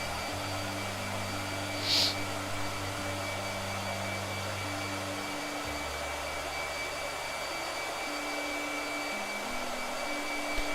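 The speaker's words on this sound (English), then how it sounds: "Blow dryer." A blow dryer runs steadily throughout with a constant whirring hum and airy hiss, its pitch shifting slightly partway through, close by and alone.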